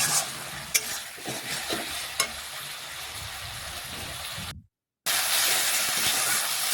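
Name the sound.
stir-frying spice paste (masala) in a pan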